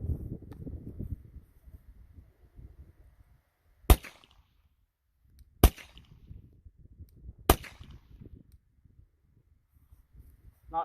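Glock 48 pistol fired with a suppressor, three sharp muffled shots spaced a couple of seconds apart, with quiet background rustling between them.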